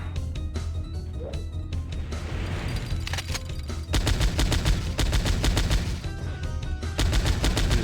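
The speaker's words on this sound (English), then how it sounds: "We start shooting with our M60" M60 machine gun firing in PowerSlave Exhumed, heard as rapid automatic bursts: sparse shots at first, then loud sustained rattling fire from about four seconds on, with a brief pause before it resumes.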